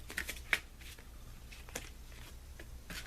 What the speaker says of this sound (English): I'm taking the deck in hand and I'm shuffling the cards